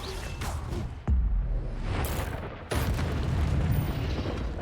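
Levioso spell cast in Hogwarts Legacy, heard as two sharp magical bursts with a whooshing, booming release, the second swelling into a sustained rumbling roar.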